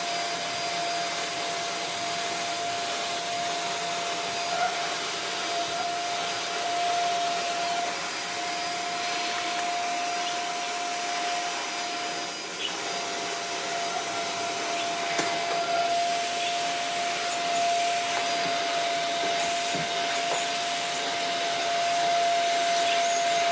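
A cheap corded vacuum cleaner with a short hose runs continuously with a steady whining drone and a constant high tone, close and unbroken for the whole stretch, with no voices.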